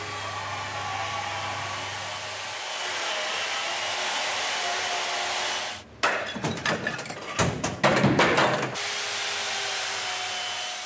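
A chainsaw carves a half-ton block of ice at a Christmas market: a steady whining engine drone runs, then breaks into choppy, irregular bursts as the blade bites, before settling back to the even whine.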